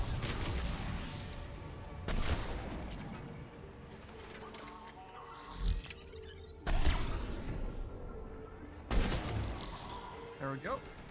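Gunfire in Mass Effect 3 on Tuchanka: several sharp shot bursts with whooshing effects, spaced irregularly over a steady game soundscape.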